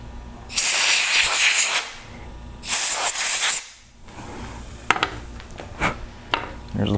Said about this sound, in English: Let's take the air nozzle and blow the thing off again.